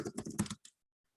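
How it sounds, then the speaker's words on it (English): A quick flurry of keystrokes on a computer keyboard, typed during a live hangout stream, runs as dense clicks for about half a second and then stops after one short final tap. "Oh, I'm typing into the wrong one."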